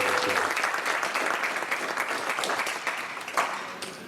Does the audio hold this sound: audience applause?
yes